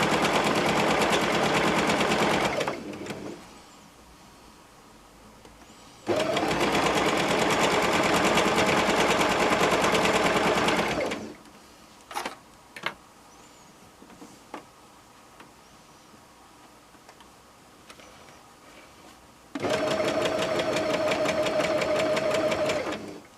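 A sewing machine stitches a messenger-style shoulder bag in three bursts of rapid, loud mechanical clatter, close by, separated by quiet gaps with occasional clicks and handling sounds.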